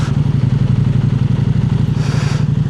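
A KTM 890 Adventure motorcycle engine under way, a loud, steady low throbbing pulse with rapid rhythmic firing and wind rush, holding close and continuous throughout, with a brief brighter hiss near the end.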